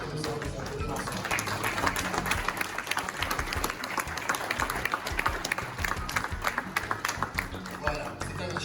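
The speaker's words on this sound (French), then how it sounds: "Et nous allons les applaudir ensemble." Applause from an audience at a gathering in Kinshasa, a steady dense wash of clapping at moderate distance that holds evenly throughout.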